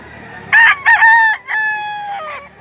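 A rooster at the Lipa livestock auction market gives one loud, close cock-a-doodle-doo crow of about two seconds, rising and then drawn out, with no talking.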